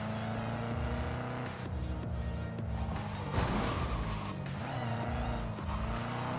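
A car in Cyberpunk 2077 drives steadily with a constant engine drone, its pitch rising and dipping as it accelerates and eases off, with a brief rougher surge midway.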